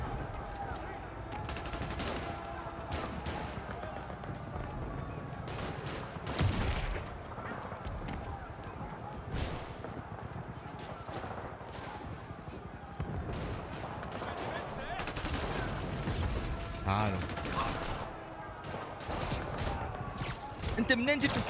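Sniper shots and other weapon fire in a Spider-Man game with a Naruto mod, heard as repeated sharp cracks over steady game noise, with a voice talking throughout.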